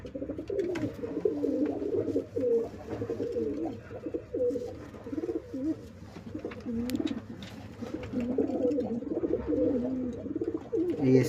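Pigeons at a pigeon-flying tournament coo in repeated low, throaty rolling phrases, close by and continuous, with faint background noise.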